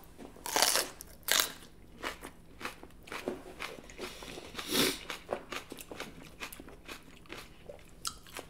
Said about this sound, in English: I'm going to try some of this last pepper.